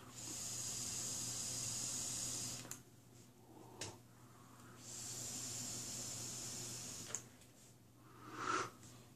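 A Smok Tech Caterpillar RDA coil hisses and crackles during vaping, with two long, steady, close draws separated by quieter pauses and a brief puff near the end.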